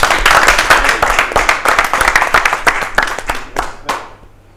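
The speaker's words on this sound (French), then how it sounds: "Venez, venez, on applaudit pour lui." Stage audience at a live Saturday show clapping for a performer, a dense close burst of applause with sharp individual claps that thins out and fades to quiet by the end.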